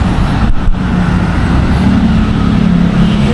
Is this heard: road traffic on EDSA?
yes